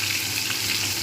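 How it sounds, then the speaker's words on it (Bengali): Paneer pieces fry in hot oil, giving a steady, close, dense sizzle with no gaps and no voices. "তেল গরম হয়ে গেছে, এবার আমি এর মধ্যে পনিরগুলো দিয়ে দেবো। পনিরগুলো খুব ভালো করে ভেজে নেব,"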